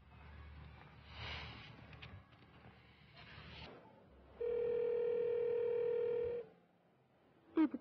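A telephone call goes through to a number that cannot be reached, with a steady electronic tone held for about two seconds, faint handset noise around it, and a short beep at the end.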